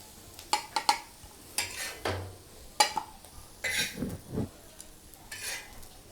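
Snake gourd egg roast scooped and shifted into another vessel: irregular metal spoon clanks and scrapes against the pan, with a few soft thuds and faint sizzling between the knocks.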